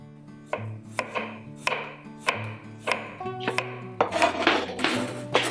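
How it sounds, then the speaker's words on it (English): A knife slices peeled potatoes for a salt cod casserole (bacalhau à Gomes de Sá), cutting them 1/4 to 1/8 inch thick. About nine crisp, evenly spaced chops sound up close, growing quicker and busier near the end, with no voices. "Now I'm slicing up the potatoes about 1/4 to 1/8 of an inch thick."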